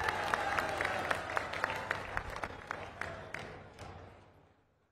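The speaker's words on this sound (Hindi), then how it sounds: "हमारे पूर्व सैनिकों के अभिनंदन में भी तालियां बजाकर एक बार स्वागत किया जाना चाहिए मेरे दोस्तों" Crowd applause at a political workers' rally in Brahmapur, Odisha, a steady wash of many hands with a few sharp nearby claps standing out, gradually fading away.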